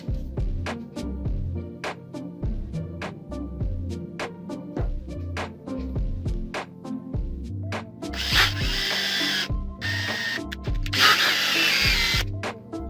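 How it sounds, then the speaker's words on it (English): A hand drill bores the stone setting hole in a handmade ring, with rhythmic clicking and scraping strokes, then two bursts of bright, harsh grinding toward the end. "Now we have to drill the hole for the stone."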